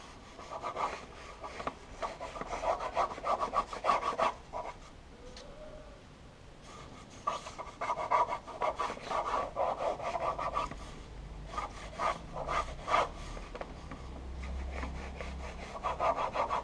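A pen scribbling loose lines on paper while drawing, close, busy bursts of scratchy strokes repeating in quick runs with a brief pause partway through.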